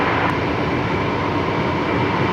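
A Jetstar jet roars on its takeoff run at Brisbane Airport, a dense, steady broadband rumble heard from a distance with no break across the whole stretch.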